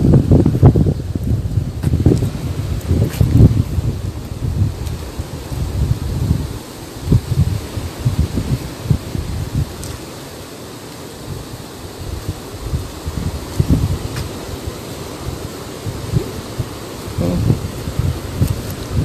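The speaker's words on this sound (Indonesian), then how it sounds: "ombak cukup besar, angin juga berkencang sangat kuat" Strong wind roars across a tsunami-struck beach stage area in Banten, with large waves surging in a rough, uneven rumble that swells and dips, heavy gusts buffeting the microphone, and no voices heard.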